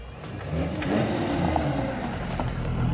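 A passing car's exhaust droning steadily outside a workshop where a written-off Volvo is being prepared, a continuous rough rumble holding level throughout.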